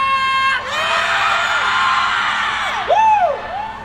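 An outdoor crowd at a rainy-night music festival in Cebu cheers and whoops loudly, with shrill rising and falling yells over a constant roar, a sharp burst of screams near the end.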